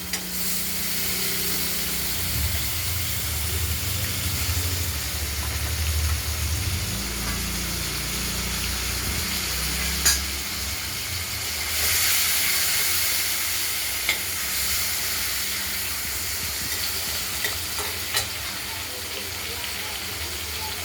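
Potatoes fry in hot oil over spices already tempered in the pan, a steady close sizzle and hiss with occasional stirring clinks, for a prawn curry with tomato and ground spices.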